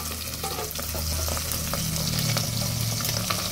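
Pabda fish frying in oil in a lightly covered pan for a mustard-cashew curry, a steady close sizzle with soft crackles running throughout.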